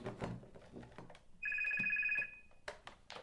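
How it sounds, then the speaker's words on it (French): Doorbell rings in a steady electronic tone of a bit under a second, loud and close, amid a man's speech. "Pardon, excusez-moi, on sonne."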